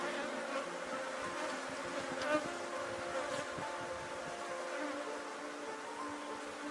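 A honeybee swarm buzzes steadily at a beehive during a hive inspection, a dense continuous hum that stays at an even, fairly faint level throughout with no voices.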